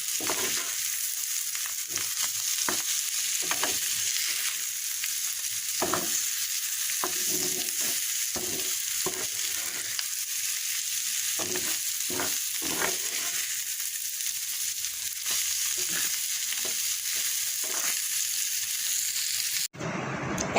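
Bitter gourd and potatoes frying in a pan, a steady loud sizzle with repeated scraping stirs throughout, no voices.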